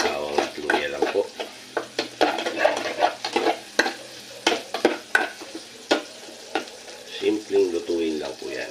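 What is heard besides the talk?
garlic and ginger frying in oil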